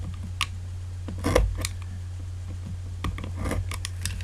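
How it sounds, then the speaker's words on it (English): Scissors snip off excess duct tape while a wallet is being made, a few short sharp cuts and rustles scattered over a low steady hum. "And now you just cut off any excess."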